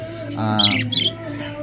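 Bright chirps and warbling calls from pet parakeets, lovebirds, budgies and cockatiels, a couple of short bursts close by, over a steady low hum.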